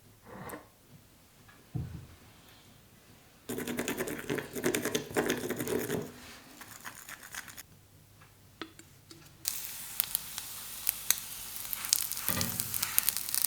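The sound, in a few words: onigiri frying in sesame oil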